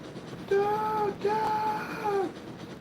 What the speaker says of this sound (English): Beautiful trains, man.